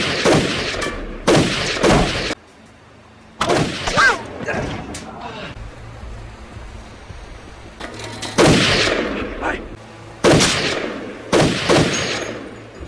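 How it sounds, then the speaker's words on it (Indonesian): Gunfire rings out in a shootout between a criminal and police in a Chinese action film, loud bursts of repeated shots broken by short pauses, with voices briefly heard between volleys. "menembaki sebagian polisi untuk mencoba kabur hingga terjadilah baku tembak di antara mereka"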